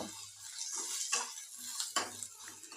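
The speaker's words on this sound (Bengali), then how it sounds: "এবার পেঁয়াজগুলোকে এক থেকে দুই মিনিট নেড়ে চেড়ে ভেজে নেব" Chopped onions frying in a pan, stirred with a spoon: a few sharp metallic scrapes and clinks over a faint low sizzle, close but quiet, brief and without voices.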